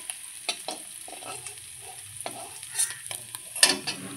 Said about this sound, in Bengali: সমস্ত মাছগুলো আমি ভেজে নেব।